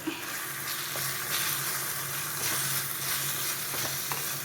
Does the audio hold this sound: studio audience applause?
no